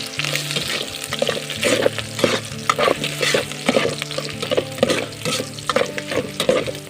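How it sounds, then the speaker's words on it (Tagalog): Onion and garlic sautéed in freshly rendered fat for an Ilocano lumo-lumo dish, giving a steady close sizzle and frying crackle broken by repeated stirring scrapes of a utensil in the pan. "Ilalagay na po natin ngayon itong sibuyas tsaka bawang natin. Nigisa lang po natin ulit."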